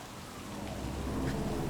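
Steady, dense rainfall in the video game Cyberpunk 2077, a continuous full hiss of rain pattering on surfaces that swells slightly, heard alone.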